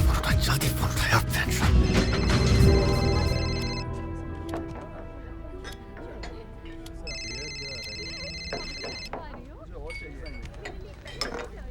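A telephone rings in short bursts of bright, repeated bell tones after a loud, cluttered opening, with voices around it.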